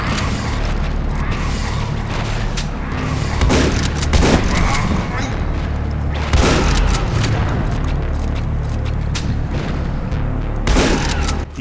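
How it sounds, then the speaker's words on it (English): A pipe bomb goes off in the post-apocalyptic shooter Ashes 2063 while fighting mutants in underground caverns: deep booming blasts and rumbling over a dense, continuous bed of loud game noise and mechanical clatter. "Good opportunity to use a pipe bomb."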